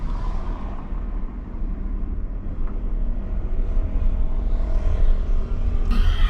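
A car reversing slowly during a driving lesson gives a low, steady engine hum with faint rumble, rising slightly toward the end, heard from inside the cabin.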